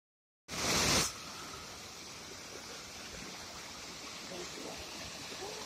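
The wide Belan river at Baraudha in Mirzapur district, near Lalganj, produces a continuous, even rushing wash of flowing water that holds steady throughout after a short louder gust at the start.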